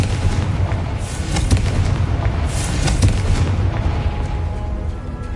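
A Confringo fire blast spell in Hogwarts Legacy goes off as a dense, loud, continuous barrage of booming blasts and crackling bursts, with no voices over it.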